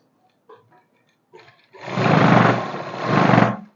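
A sewing machine runs steadily and loud for about two seconds, sewing the centre seam of a pair of pants, after a few faint clicks and taps of handling.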